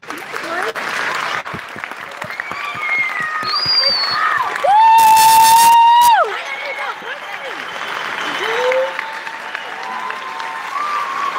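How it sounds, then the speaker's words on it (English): An awards-event crowd at the Ace Hotel claps steadily for filmmakers, with loud whistles and cheers cutting through, the applause continuing throughout at close range. "join me in a round of applause"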